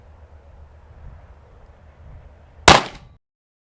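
A single loud, sharp 9mm gunshot from a Radian Model 1 rifle with a short 4.5 to 5 inch barrel cracks out after a few seconds of low background hum, then cuts off quickly.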